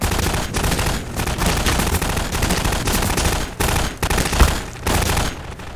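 Rapid automatic gunfire from the Half-Life 2 video game rattles loud and continuous, with brief gaps between sustained bursts.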